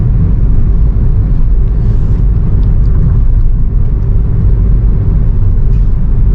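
A steady low engine rumble and road drone fill the cabin of a 2013 Nissan Evalia automatic continuously, loud and even, with no voices.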